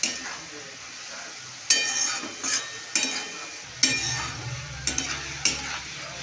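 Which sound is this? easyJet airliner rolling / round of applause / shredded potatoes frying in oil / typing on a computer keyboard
shredded potatoes frying in oil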